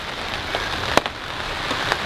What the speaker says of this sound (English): I was outside planting some stuff and then it just started raining a little bit